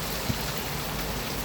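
Meltwater falls from an ice mountain as a steady broadband rushing and splashing, like a continuous distant waterfall, with no voices over it.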